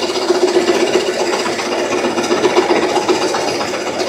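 A small chickpea processing machine runs while chickpeas pour from its hopper, a loud, steady rasping grind with a rough granular texture, close and continuous with no speech.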